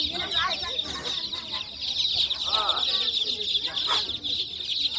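Poultry cluck and call steadily at a busy livestock market in Kashkadarya, Uzbekistan, with several birds overlapping close by, and people talk throughout.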